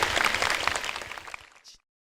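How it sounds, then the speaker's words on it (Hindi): An audience breaks into brisk, dense clapping to welcome a daughter at a large gathering, loud and steady at first, then thinning out and stopping abruptly after under two seconds. "जोरदार ताली से उस बेटी का स्वागत होना चाहिए।"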